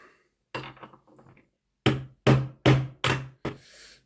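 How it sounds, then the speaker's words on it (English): A part of a Heljan Class 17 model locomotive being tapped out with a tool, a few light taps followed by five sharp, close knocks in an even rhythm, with no talking. "And lever it off so far. Like that, and we'll tap it out."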